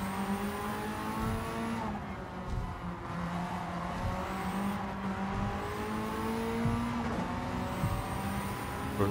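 A Mitsubishi Evolution VIII engine races in Gran Turismo 7 at the Tokyo circuit, revving up and down through gear shifts with rising, falling whines and brief tire squeal, loud and continuous.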